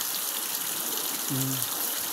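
The Laya River at Candulawan, Talisay City, Cebu, gives a steady, full rushing wash throughout, with a brief tonal sound rising above it partway through.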